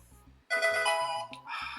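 A phone ringtone chimes loudly in bright repeated tones, first briefly, then sustained, then again after a short gap, over a low rhythmic game soundtrack thumping underneath.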